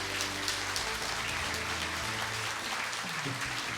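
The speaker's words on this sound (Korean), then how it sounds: "큰 박수 부탁드립니다" An audience applauds at a university president's farewell ceremony, a dense, even, rain-like patter of many hands held steady throughout, with faint music underneath.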